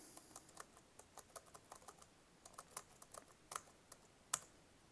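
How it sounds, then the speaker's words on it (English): Rapid, light key clicks of a password being entered on a braille keyboard for a network login, close and fairly quiet in steady uneven bursts, with no voice. "So I'm going to type in our password here for our network."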